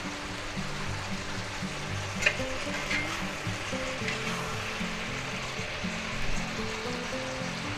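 Spicy chicken and vegetables sizzle and crackle in a hot pan as they are stirred, a steady frying hiss with occasional scraping clinks of a utensil.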